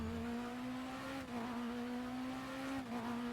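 A racing car's engine in the RaceRoom sim racing game holds a steady, loud, buzzing drone, with brief pitch dips as if shifting or lifting off the throttle, with no speech.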